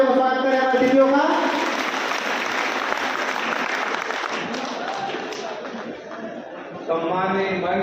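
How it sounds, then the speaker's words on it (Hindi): A large crowd at an outdoor tribal day gathering breaks into loud sustained applause and cheering, swelling then fading, with a voice speaking briefly at the start and end. "कृपया जोरदार तालियों का स्वागत करें हमारे अतिथियों का"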